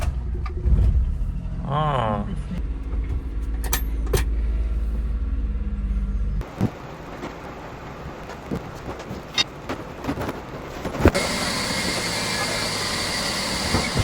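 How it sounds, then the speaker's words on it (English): A K car engine runs as the car is moved in a garage during work on a 1990 Chevy C1500, a loud low rumble with a rising whine early on, then quieter clattering, with a brief voice. "Before we take this bed out, we gotta move the K car out of the way."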